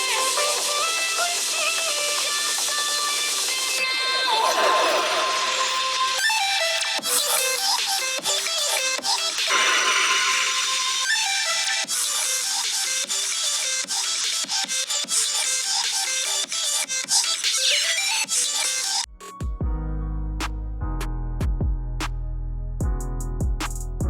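Music plays through the small speakers of Samsung Galaxy M53 and A53 phones, thin and bright, shifting passages over about twenty seconds, then a sudden switch to a bassier, fuller sound.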